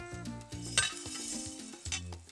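Fried rice with shrimp and vegetables being stirred in a pan, with a steady sizzle under scraping and clinking of a utensil against the pan, plus low musical tones running throughout.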